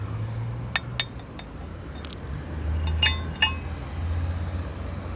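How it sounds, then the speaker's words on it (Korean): A brittle, tin-like cast metal fitting on a roadside traffic structure is tapped several times, giving sharp, light clinks scattered over a few seconds above a low, steady background hum. "이 소리 들어봐도 아시겠습니다만은 이게 주석 같은 이렇게 좀 깨지는 그런 성질의 금속으로 보입니다."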